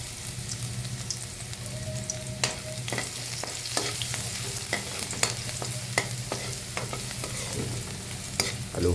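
Garlic frying in a pan for a vegetable sauté, stirred steadily: a constant close sizzle with repeated sharp scrapes and taps of the utensil against the pan throughout.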